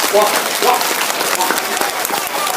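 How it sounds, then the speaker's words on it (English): Students applauding themselves at a school team inauguration, loud and close clapping from a group that runs throughout, with voices talking and calling out over it early on. "Now give yourselves a round of applause"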